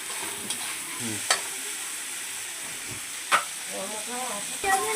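Onions and spices being stirred and fried in a pan for a curry, a steady soft sizzle with a few sharp scrapes of the spoon against the pan.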